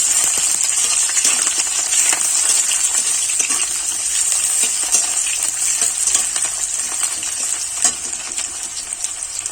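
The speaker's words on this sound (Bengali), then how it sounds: "লাল লাল করে পেঁয়াজগুলোকে ভেজে নেব" Thinly sliced onions fry in a pan until browned, giving a loud, close, continuous bright sizzle broken by frequent stirring scrapes.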